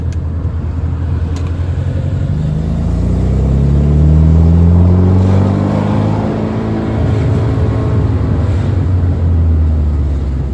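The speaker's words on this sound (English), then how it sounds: "you can hear the engine." A 1979 Alfa Romeo Alfetta 2.0 heard from inside the car while driving: a steady low engine drone that swells through a gear as revs rise and fall, with road rumble beneath and no talking.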